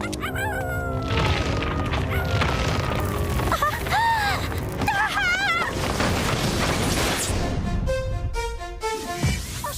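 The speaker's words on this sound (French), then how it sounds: "le chien qui aboie" Cartoon dog barking and yipping in an animated French series, a busy mix of yelps, howls and whistling tones over music and effects, loud and close.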